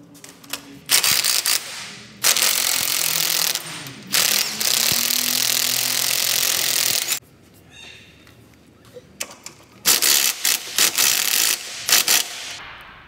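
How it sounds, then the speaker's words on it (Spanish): A socket wrench with a 13/16 socket removing the front track bar bolt on a Jeep JL, loud bursts of rapid ratcheting clicks separated by pauses, with metallic mechanical noise between bursts. "Listos para quitar el primer tornillo del track bar delantero. Vamos a instalar un dado 13-16."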